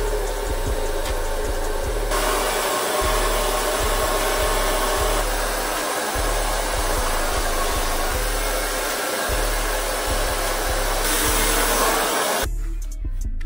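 A hair dryer blow-dries thick curly hair, roaring loud and close in a continuous whoosh that shifts and pulses as it moves, then cuts off near the end.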